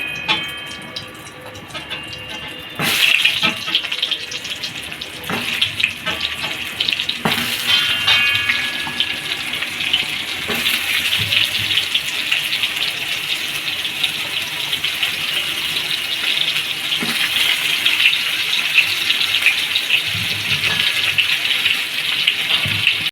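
Turmeric-coated pointed gourds go one at a time into hot oil in a kadai. A steady, loud sizzle bursts in after a few seconds of quiet and keeps going, with scattered crackles as more pieces drop in.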